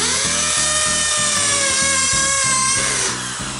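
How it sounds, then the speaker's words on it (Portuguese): A loud electric drill whirring steadily into a wall while building a desk, with a high mechanical whine and pulsing low motor rhythm, easing off slightly near the end. "Na hora de você usar a parafusadeira."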